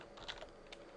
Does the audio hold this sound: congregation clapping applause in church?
no